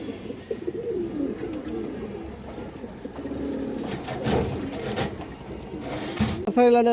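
A pair of Muslodom pigeons coos in low, rolling bursts that rise and fall, with a seller talking over them throughout.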